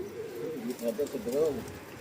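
A pigeon coos softly in short warbling phrases, close by, over faint background noise.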